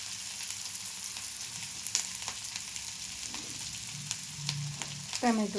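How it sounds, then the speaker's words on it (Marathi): Cabbage and potato fry in a pan with a soft, steady sizzle and occasional spatula scrapes. A faint voice briefly comes through near the end. "थोडं कोबी मऊ होईपर्यंत भाजून घ्यायचं"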